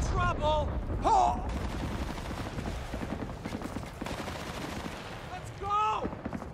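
Rapid gunfire from a Battlefield: Bad Company battle runs through the whole stretch as dense, crackling bursts under game voices and radio chatter, with short loud flares near the start and end.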